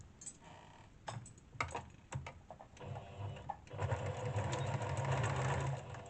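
Domestic sewing machine running a straight stitch along the crotch seam of wide-leg trousers, heard as several short close-up bursts of rapid mechanical chatter that end in a longer, steady run.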